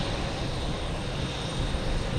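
A JetBlue airliner from San Juan at Boston Logan Airport gives off a loud, close, continuous jet roar that fills the whole moment without pause or voices.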